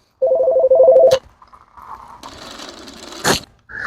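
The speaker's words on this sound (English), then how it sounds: "we got interrupted there by a phone call" A telephone rings with an incoming call, opening with a loud two-tone electronic ring pulse, followed by quieter clatter, rustling and a sharp knock as the call is handled.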